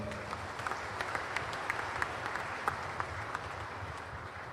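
Applause from an audience at a graduation ceremony for Quran memorizers in West Java, steady dense clapping with sharp individual claps throughout, no speech.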